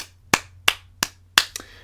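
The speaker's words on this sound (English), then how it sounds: "I was just clapping there." Hands clap sharply five times at a steady, slightly uneven pace, each clap crisp and close against a faint low hum.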